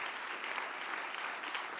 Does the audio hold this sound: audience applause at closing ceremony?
yes